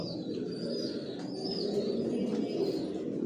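Racing pigeons in a loft give soft, repeated cooing calls over a faint, steady background hum, with no voices.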